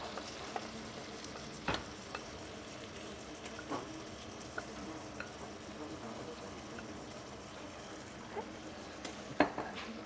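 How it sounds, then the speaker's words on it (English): Marinated beef sizzles and crackles in hot oil in a pan for a traditional Cambodian beef stir fry, a steady close frying hiss broken by occasional sharp pops and clatters of stirring. "Can hear it sizzling."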